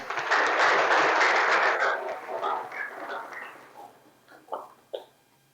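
Students in a classroom clap for a classmate. A dense burst of applause fills the first two seconds, then thins out into a few scattered claps and brief voices.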